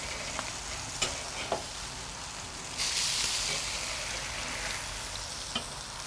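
Burger patties sear on a Weber Performer grill, giving a soft, steady sizzle from close range, with a few light taps and a louder burst of hissing partway through.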